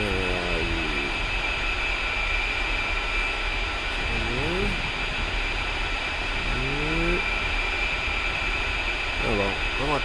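An A-10C jet in the DCS flight simulator taxis and brakes on a runway, a steady loud engine whine and hum running throughout with a few rising and falling tonal sweeps.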